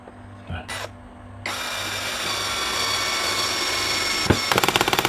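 An OSUKA cordless drill driver set to clutch one and gear one drives a screw, whirring steadily for several seconds after a couple of brief starts, then ends in a rapid train of clutch clicks.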